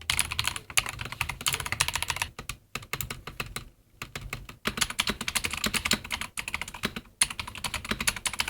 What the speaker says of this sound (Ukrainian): Клавіатура є у двох варіантах: з лінійними Aurum Orange, як у мене, або клікаючими Indigo.